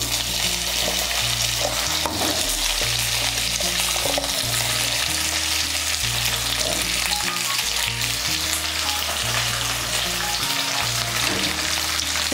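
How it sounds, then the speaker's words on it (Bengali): Okra, washed and slit, fries in hot oil with a constant, close crackling sizzle and occasional stirring clatter, steady throughout with a low tonal hum underneath. "তেলটা গরম হয়ে গিয়েছে, এর মধ্যে আমি ঢেঁড়সগুলো ভেজে নিচ্ছি।"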